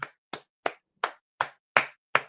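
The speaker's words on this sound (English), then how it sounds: "Let's give a round of applause to Sharon Britt." Seven sharp, evenly spaced claps ring out alone, each a crisp slap with a quick decay, close and fairly loud.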